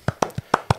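Golf clap sound effect: five soft, sparse hand claps in a quick, slightly uneven rhythm, close and quiet with no voices.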